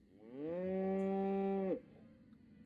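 A cow moos once in the video game Destroy All Humans, a single long, loud, steady low call that cuts off abruptly, with no talking.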